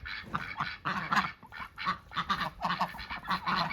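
Farm ducks call close by in a rapid, rhythmic run of loud honking quacks, one after another with brief gaps and no talk.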